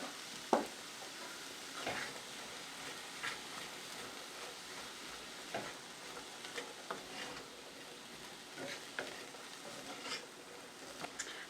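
Vegetables sweating with a little salt in a pan give off a faint, steady sizzle, with occasional soft stirring clicks and scrapes, quiet and alone.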